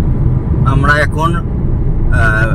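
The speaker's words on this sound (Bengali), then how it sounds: "এখন মা গাড়ি চালাচ্ছে যমুনা এক্সপ্রেস হাইওয়েতে" A car cruises along the Yamuna Expressway with a steady, loud rumble of engine and road noise throughout, while someone talks over it at intervals.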